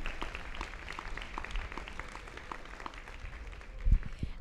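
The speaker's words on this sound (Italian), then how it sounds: "se vogliamo dedicare un applauso a Piero Angela" Applause for Piero Angela from a summer concert audience before a town band plays, with moderate, somewhat distant clapping that stays fairly even and swells briefly near the end.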